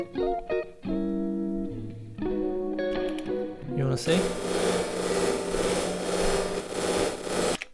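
An Elektron Octatrack's buggy plate reverb erupts into loud, harsh, sustained noise after a few seconds of tonal synth notes, roaring on steadily to the end; a voice briefly speaks near the start.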